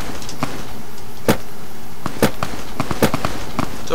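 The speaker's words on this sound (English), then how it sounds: "I hear a gunfight." Gunshots ring out in a gunfight in the video game Fallout New Vegas, several sharp cracks spaced roughly a second apart amid fainter pops, fairly loud over a steady background, with no talking.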